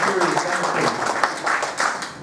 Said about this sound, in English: Now, give yourself a big hand of applause.